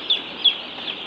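Broiler chicks kept in a coop give a couple of short, high peeping calls over a constant background of flock chatter, close by.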